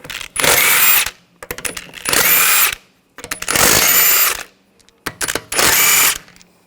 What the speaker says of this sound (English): Now I'm going to remove the wheel, use a 17mm socket, take the lug bolts out.